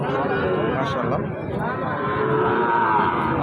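A cow moos at a busy cattle market selling Shahiwal cattle, its long low call drawn out beneath a constant crowd of people talking and trading.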